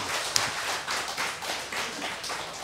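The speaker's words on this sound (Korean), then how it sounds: "박수!" A church congregation claps together in a steady, dense burst of many hands, fairly loud and continuous throughout, with no voices standing out over it.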